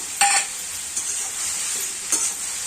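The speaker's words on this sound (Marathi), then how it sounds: "आता मिक्स करून घेऊया" Harbara (green chickpea) greens with salt being stirred in a pan, a steady sizzle under scraping strokes, with three sharper spoon scrapes spaced across the short stretch.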